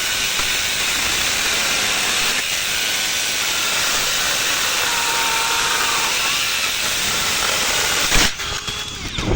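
A cordless battery-powered angle grinder saw cuts steadily in a loud, continuous high whine for about eight seconds, then breaks off into rattling handling noise near the end.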